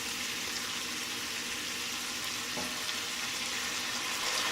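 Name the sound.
deglazing roaster pan with apple cider vinegar, sizzling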